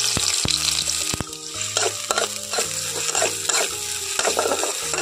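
Chopped onions frying in hot oil while being stirred in a pan, a steady loud sizzle broken by repeated scraping and clinking of a spatula, with no one talking.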